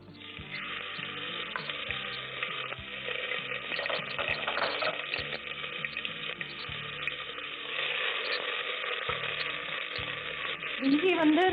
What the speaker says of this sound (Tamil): இஞ்சி விழுது நம்ம போட்டுக்கிறோம்.